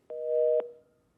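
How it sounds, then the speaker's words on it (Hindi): A single telephone tone heard after a reporter's phone call drops: one steady, fairly loud tone lasting about half a second, cut off sharply, then a short fading tail into near silence, with no talk. "तकनीकी खामियों की वजह से दीपा श्रीवास्तव हमारे सहयोगी का फोन कट गया है"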